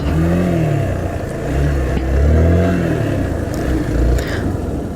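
A Hero Xpulse 200T motorcycle on a narrow off-road track gives a loud, close engine drone that rises and falls as the throttle opens and eases.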